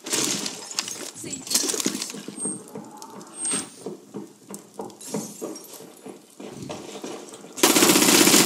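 Gunfire in the tactical shooter Rainbow Six Siege, with sharp bursts of shots and clinking impacts over muffled game ambience, followed by a loud broadband burst near the end.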